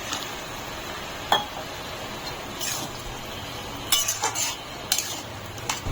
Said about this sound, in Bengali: আলুগুলো দিয়ে একটু নাড়িয়ে নেব